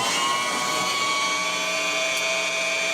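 Janome HD-3000 sewing machine winding a bobbin, a continuous high motor whine with a steady hum, close and unbroken, no voices.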